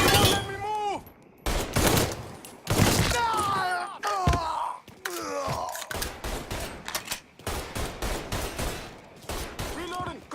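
Rapid bursts of gunfire crackle through a Mafia 3 firefight, loud and close, with repeated volleys and single shots separated by brief gaps while shouting voices call out over the shooting.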